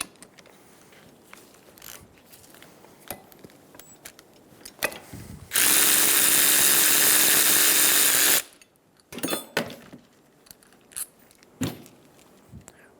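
A power tool with a socket whirs in one loud burst of about three seconds while a rear brake caliper comes off its bracket on a 2007-2011 Toyota Camry, with scattered clinks and tool handling before and after.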